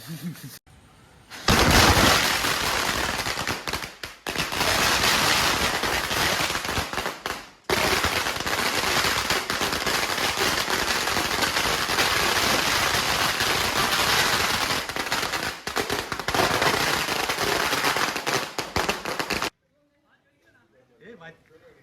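A long string of Diwali firecrackers goes off in a loud, dense, continuous crackle of rapid bangs that lasts many seconds, then stops abruptly into near silence.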